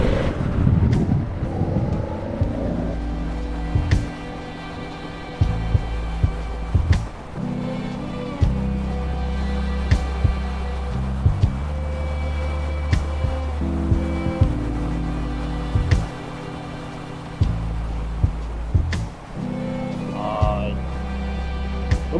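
A large adventure motorcycle on fresh tyres rides toward a new roadside station near Chigasaki, Shonan, its steady low engine drone continuous and close throughout, with shifting gear-change steps and wind noise.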